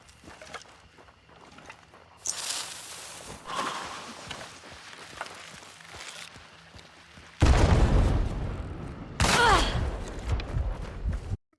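In the online shooter Hunt: Showdown, grenade blasts burst out as two loud, broad booms late in the sequence, preceded by quieter footsteps and scuffling movement.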